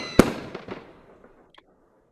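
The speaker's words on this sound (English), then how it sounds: "And yep, we also have a bit of fireworks." Fireworks go off with one sharp loud bang, then a few fainter pops and crackles that fade to near silence within about two seconds.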